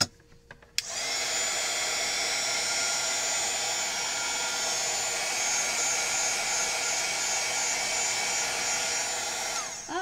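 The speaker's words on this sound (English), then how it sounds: "Let's go ahead and just heat this a little bit more" Heat tool warming a textured craft surface, starting abruptly and then blowing as a loud, steady, close whir for several seconds before cutting off.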